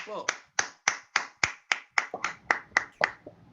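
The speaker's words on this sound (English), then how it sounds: "give yourselves a big round of applause" A small group claps in a round of applause at a public speaking course, about eleven crisp, separate claps in a steady rhythm, close and fairly distinct, with no talking over them.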